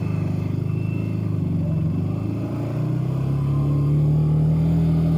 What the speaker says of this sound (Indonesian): Jadi ini aku sedang di atas motor pakai chest strap.